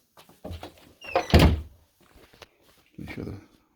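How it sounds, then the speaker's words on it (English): A door swung shut in a workshop beside a homemade air compressor built from fridge compressors, giving one solid thunk near the middle, with people talking before and after. "Let's close this door."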